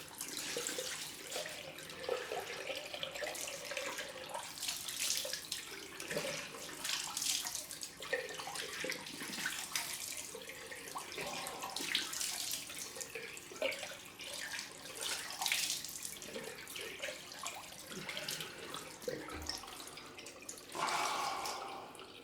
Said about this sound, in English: So nice cold rinse.